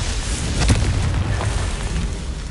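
A Confringo fire spell bursts in Hogwarts Legacy, a deep booming blast around the middle over a steady low rumble of game ambience.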